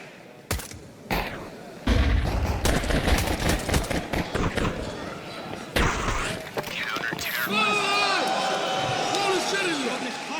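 Pistol and rifle gunfire in a Counter-Strike 2 match, with rapid sharp shots and bursts crowding the first half, followed by chaotic game effects, under a caster's excited commentary.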